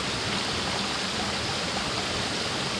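River water rushes steadily near the Pito waterfall, a loud, continuous broadband wash with no breaks and no voices.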